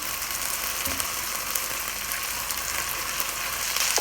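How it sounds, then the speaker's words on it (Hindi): Chicken pieces for fried rice fry in a pan with a loud, dense, continuous sizzle and crackle, close up and steady throughout. "तकरीबन हम इसको 10 मिनट तक फ्राई करेंगे, ताकि चिकन के अंदर से कोई भी किसी किस्म की कोई स्मेल ना हो"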